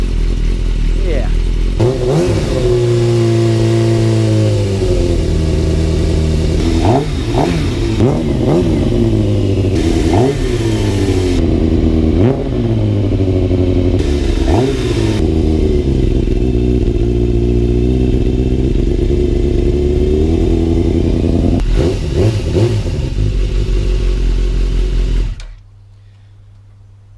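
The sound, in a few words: Yamaha YZF 600 Thundercat motorcycle engine warming up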